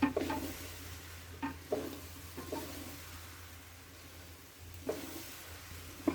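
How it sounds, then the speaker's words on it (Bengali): Oil and green chilies sizzle in a pan for chicken vegetable khichuri, with a steady frying hiss broken by repeated scraping stirs of a spoon, heard up close without talk. "এটা কিছুক্ষণ ভাজবো।"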